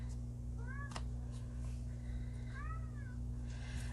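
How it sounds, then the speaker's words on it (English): A house cat meows twice, rising-falling cries over a steady electrical hum in a room where paint-and-hands journal crafting is underway, the second meow longer and drawn out. "somebody please tell me what is up with my cat."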